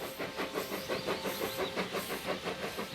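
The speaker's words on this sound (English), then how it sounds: "Here it is here, backing some wagons into the small goods yard at my country" A Hornby Terrier No 40 "Brighton" model locomotive in improved engine green livery backs wagons into a small country-station goods yard, giving a steady close whirring motor rumble with a soft rhythmic clatter of wheels on track.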